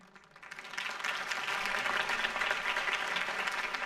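Video game crowd applause in Batman: The Telltale Series, clapping swelling in quickly and holding as a dense, even roar of many hands.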